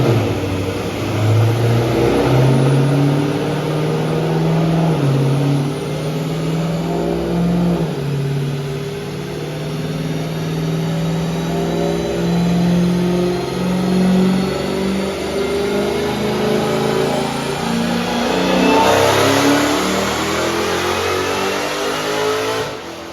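A supercharged Dodge Challenger SRT Hellcat Redeye engine held at high revs on a dyno, roaring steadily for a long stretch with its pitch rising and falling slightly, then surging near the end.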